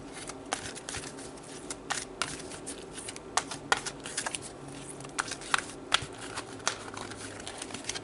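A deck of tarot cards is shuffled by hand, close and faint, with soft riffling crackles and scattered sharper snaps coming in uneven bursts. There is no talking.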